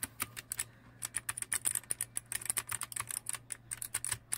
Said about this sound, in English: There's the sounds you're gonna hear when you type on it.